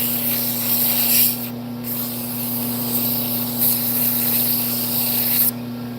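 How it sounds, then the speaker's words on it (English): Sandpaper rubs against a firewood yoyo spinning on a wood lathe, a steady close hissing scrape over the lathe motor's constant hum, with brief pauses in the abrasion around the second and fifth seconds. "Get as much sanded as I can, so I only have to do a little bit of that inside post"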